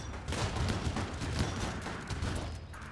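Gunfire in the combat video game Rimworld, a dense, continuous crackle of overlapping shots and bursts at moderate loudness, with no voices.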